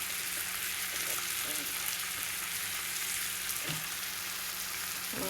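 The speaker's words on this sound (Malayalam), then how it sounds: "ലേശം മാന്ത ഉണ്ടെങ്കിൽ ഞാൻ മാന്തിയും കൂടെ ഞാൻ സൈഡിൽ ഇട്ട് കൊടുക്കുന്നുണ്ട്" Mackerel frying in a pan gives a steady, broad sizzle throughout, with a few brief faint tonal sounds from the kitchen above it. No one speaks.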